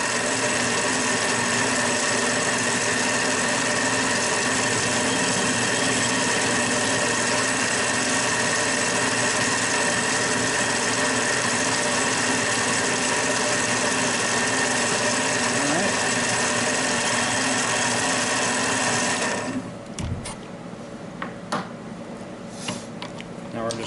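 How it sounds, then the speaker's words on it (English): Metal lathe taking a face cut to deburr a workpiece, a continuous loud machine hum with a high whine running steadily before the motor cuts off near the end, leaving quieter background. "First, I'm just going to make a face cut"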